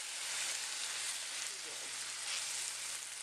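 Pepper steak vegetables sizzle in a pan as sauce marinade is poured in, giving a soft, steady frying hiss with faint bubbling.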